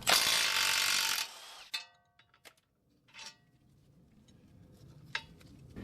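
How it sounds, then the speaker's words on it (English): A wrench working a 15 mm ball joint bolt on a 2010-2016 GM control arm: a sustained loud ratcheting burst, then scattered metallic clicks and a clank, fading to quiet shop noise with no talking. "you're just going to have a 15 mil bolt here. Just put a wrench on the back side,"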